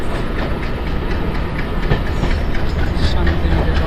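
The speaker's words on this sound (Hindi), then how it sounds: "तो चलिए बोलपुर स्टेशन पे इस ट्रेन का अराइवल देख लेते हैं।" Kulik Express hauled by an LHB rake pulls into Bolpur station, giving a loud, steady rumble of rolling coaches with rhythmic clickety-clack over rail joints and no pauses.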